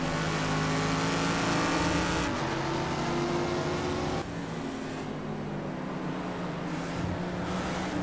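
A race car engine in Project Cars 2 drones loudly at high revs, with no bumper or spoiler fitted, and shifts pitch through gear changes on a steady, continuous drive.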